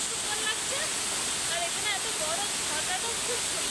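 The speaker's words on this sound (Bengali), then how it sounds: "এখানে খুব সুন্দর একটা ঝর্ণা পেয়েছি" A roadside waterfall on the road to Bichanbari, Darjeeling, rushes in a loud, constant broadband roar, while faint voices and chirpy tones drift in and out over the top.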